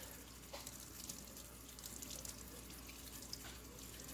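Tap water runs over hands in a steady, soft broadband hiss, with a few faint splashes and drips over the flow.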